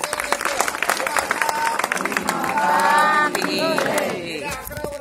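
An audience claps steadily to welcome guests at a Tripuri Purnima Ashapuri festival gathering, a dense patter of hands with crowd murmur and voices talking over it throughout.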